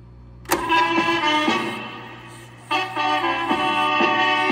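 An Akai 1710 reel-to-reel tape recorder plays through its own built-in side speakers, giving clear sustained tones in short phrases over a constant low running hum, with a pause before the tones resume.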